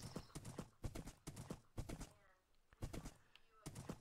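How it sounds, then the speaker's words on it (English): Rhythmic horse hooves clip-clopping at a walking pace in a video game, clear and close, with a short pause in the middle before the steps resume. "Come here, horse."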